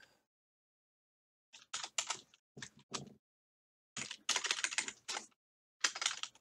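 Computer keyboard typing code, several quick bursts of crisp, close key clicks separated by short pauses in an otherwise quiet room.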